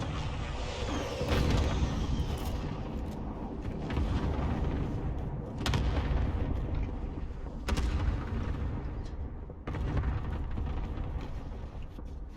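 Grenade blasts and gunfire in the game Warzone, with heavy low booms and sharp bursts of shots recurring every couple of seconds over a rumbling battle background.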